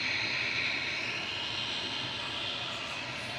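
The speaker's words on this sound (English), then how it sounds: "Logan Air's GLMTE lined up and ready to go behind the departing EasyJet" A Loganair plane lined up and departing Manchester Airport for the Isle of Man, its engines giving an even, sustained roar at moderate loudness with no voices over it.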